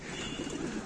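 Homing pigeons cooing in a loft, a soft low burbling coo close by, heard alone for under a second.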